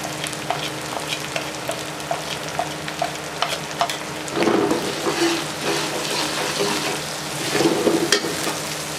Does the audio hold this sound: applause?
no